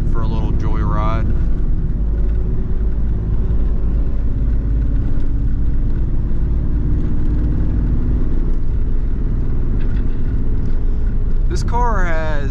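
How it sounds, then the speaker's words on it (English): A car fitted with parts for a nitrous kit cruises on the road, its engine a steady, close low drone with rumbling road noise that holds unchanged for the whole stretch. "I figured we can take the car out for a little joyride"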